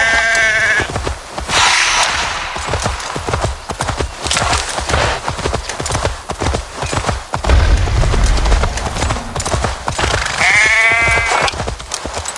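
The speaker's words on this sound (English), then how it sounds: "That sounds like a sheep, and not a happy one." An unhappy sheep bleats twice in Assassin's Creed Valhalla, a wavering cry near the start and another near the end, over constant game ambience with rustling and hoof-like clopping.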